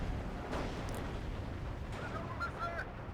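Off-map artillery strikes land in Steel Division 2 as a steady, dense rumble of distant explosions and gunfire, with a few brighter whistling tones near the end and no clear break in the din.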